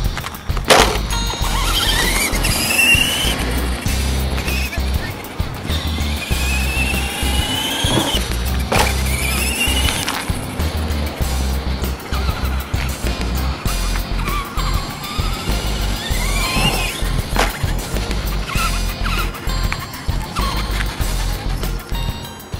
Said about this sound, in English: That was the test run of the Ruckus 110 scale monster RC truck from Electrix RC.